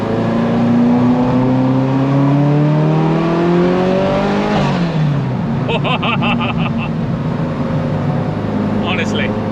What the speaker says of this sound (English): Honestly, just feeling that turbo lightly spool up under a graceful throttle application.